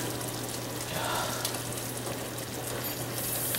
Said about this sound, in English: Go ahead and start frying off these pork chops here.